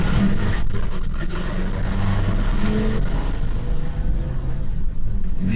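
A Ford E450 van fitted with KONI shocks rolls down a road, a continuous low engine rumble and road noise heard from inside the cab, no talking.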